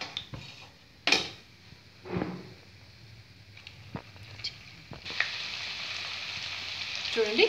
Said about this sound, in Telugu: ఇలా మిగతాయి కూడా అన్నీ యాడ్ చేసి ఫ్రై చేద్దాం